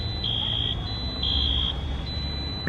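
A high electronic alarm tone at a school sounds in two long steady blasts separated by a pause, heard over low background rumble.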